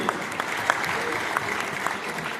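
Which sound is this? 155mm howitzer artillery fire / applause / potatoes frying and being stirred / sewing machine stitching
applause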